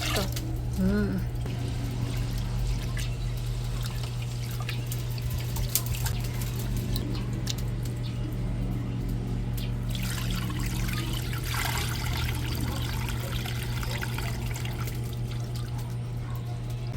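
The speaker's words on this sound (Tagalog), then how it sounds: "Yan po at lalagyan na natin ng tubig." Water is poured into a cooking pot for sinukmani, a glutinous rice snack, over a lit fire outdoors. A soft, steady trickle runs under a constant low hum and faint background noise.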